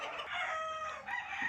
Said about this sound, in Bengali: এই সে ফার্মের মুরগি। এরকমের ফার্ম মুরগি অনেক অগণিত মুরগি আছে